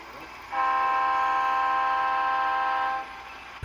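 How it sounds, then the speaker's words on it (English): An HO scale model train horn sounds one steady, sustained blast lasting a few seconds, loud and close, during a BN operating session. "he's blowing for the grade crossing"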